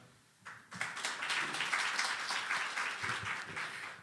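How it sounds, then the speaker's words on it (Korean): An audience at a Korean healthy cities association general meeting and conference claps after a host's introduction, the applause rising sharply and continuing as a full, steady ovation that eases off near the end. "박수 한번 부탁드립니다"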